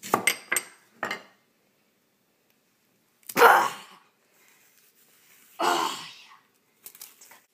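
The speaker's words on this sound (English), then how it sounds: "let's cut those bananas" A knife meets a board with a few sharp taps while bananas are cut lengthwise for caramelizing, followed by two louder scraping clatters, all in a quiet kitchen.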